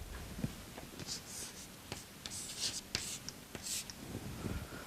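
Marker or chalk scratching across a board in a phase transformation lecture, a run of short strokes and taps, close and moderately quiet, with no speech over it.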